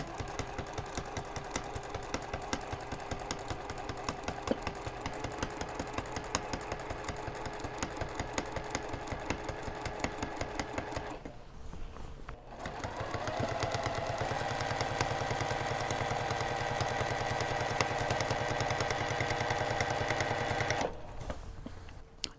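A sewing machine steadily stitches quilt-as-you-go mandala quilt pieces, its needle chattering in a fast, even rhythm that pauses briefly, then resumes at a similar close, loud level.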